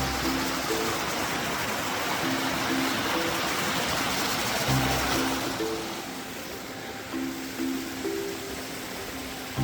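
A steady rush of falling water from a waterfall near Lena Lake in Olympic National Park roars continuously, loud and broadband, with a faint low hum underneath.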